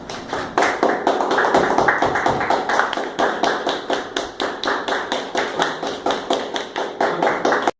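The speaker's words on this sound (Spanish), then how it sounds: "Un aplauso para vocês." An audience at a training session claps in a sustained round of applause, a dense, even patter of many hands close by that continues for several seconds.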